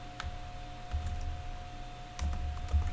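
A computer keyboard is tapped out in quick, light clicks that come in a few short bursts as a password is entered, close by and quiet, with no one talking.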